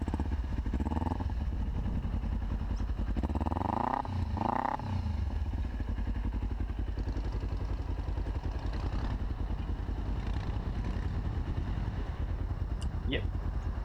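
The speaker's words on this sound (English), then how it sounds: "Here we go, some revs." A Kawasaki Ninja 250R motorcycle engine rumbles close by, revving in several quick rising and falling bursts before settling into a steady drone, with someone talking over it.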